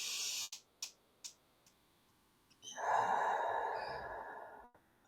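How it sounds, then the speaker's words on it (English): A slow, calming breath: a few soft clicks, then a long audible exhale through the mouth that swells and gradually fades over about two seconds, close and quiet, with no talking. "and taking a breath really changes my energy"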